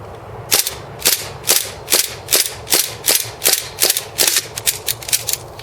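A WE Silver Sword Cutlass M9 gas blowback pistol fires rapidly until its magazine is empty: about a dozen sharp, loud cracks with mechanical slide clacks at a steady, quick rhythm, close by and with no talking.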